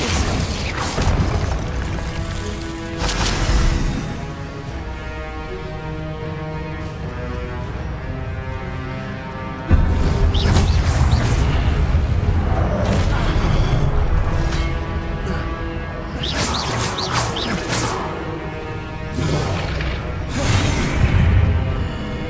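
Confringo blasting spell fired in Hogwarts Legacy, with sharp crashing bursts and booms landing at intervals over a bed of game music and mechanical clatter.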